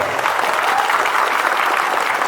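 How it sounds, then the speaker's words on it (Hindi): A burst of crowd applause, dense clapping from many hands that stays loud and steady throughout. "आप लोग ताली मारता है"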